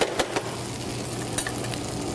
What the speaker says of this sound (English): So that's going to fry up, and then we're going to add our ingredients.